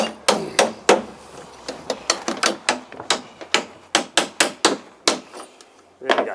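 Hammer blows drive a nail into a wooden butt joint: a rapid series of about twenty sharp, close knocks in an uneven rhythm, with a brief pause and a final strike near the end.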